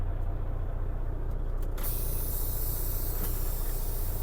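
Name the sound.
truck air brake valves pushed in, air release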